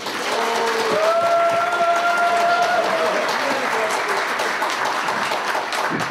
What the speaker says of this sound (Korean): 일단 두 분한테 먼저 큰 박수 부탁드리겠습니다